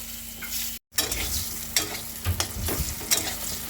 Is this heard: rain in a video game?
no